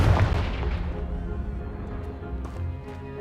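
A Confringo spell blasts a pile of debris in Hogwarts Legacy, opening with a loud booming explosion that settles into a rumbling decay with faint clattering afterward.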